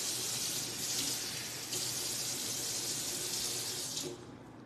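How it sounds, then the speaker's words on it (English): Tap water runs steadily into a pan of chicken being cooked, a broad continuous hiss that holds for about four seconds and then drops away quickly near the end, with no talking over it. "So I'm gonna add a little bit of water so it can re-steam a little"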